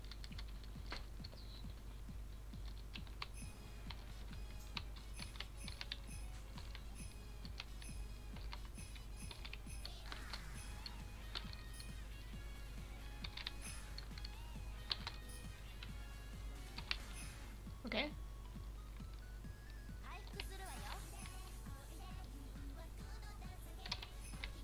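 Quick, irregular clicks and taps from a computer keyboard come in bursts during gameplay, close and fairly quiet over a low steady hum.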